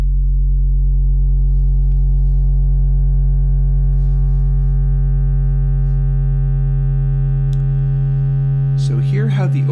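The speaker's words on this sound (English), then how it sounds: "like a simple wavefolder that's just multiplying the frequency" Wavefolder effect doubling frequency: a steady, loud low synth tone with stacked harmonics holds throughout, then a bright overtone sweeps upward near the end, with a brief voice at the close.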